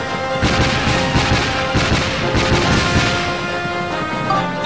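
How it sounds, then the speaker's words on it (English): A barrel cannon fires in the Dark Chronicle video game, loud booming blasts coming in quick succession over a dense rumble of game effects and music. "Still have a few shots left in the barrel cannon."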